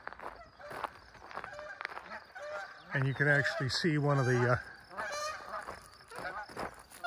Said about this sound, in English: boy, there go the geese.